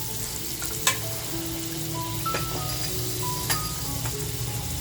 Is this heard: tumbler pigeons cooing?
no